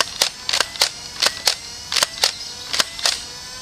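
Nerf Rebelle Fearless Fire semi-auto blaster firing foam darts: a quick series of about eight sharp, close mechanical clacks, some in tight pairs, over a faint steady whir.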